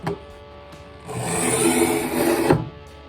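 A Gerber Broadcut machete edge is drawn through a Smith's sharpener near its tip, giving a close, sustained scraping rasp of about a second and a half after a few light clicks and taps, ending with a sharp knock.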